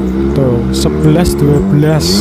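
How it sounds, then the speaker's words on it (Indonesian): A motorcycle fitted with a homemade exhaust built from scrap cans runs with a loud, deep, steady rumbling drone close by, while someone talks over it. "ini adalah suara motor ketika dipasangin barang-barang bekas tadi guys"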